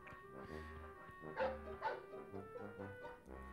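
A cartoon dog barks in the Bugs Bunny PS1 video game: a few soft, repeated yips and woofs in an uneven rhythm, faint and close, set over game music.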